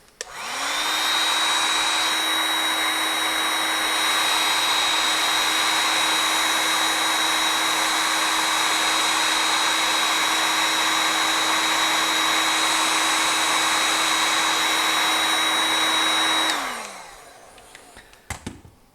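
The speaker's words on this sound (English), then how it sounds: "Shrink wrap, men's hair dryer." A hair dryer blows hot air to shrink heat-shrink wrap, a loud, steady whirring drone that runs unbroken for about fifteen seconds before winding down and stopping.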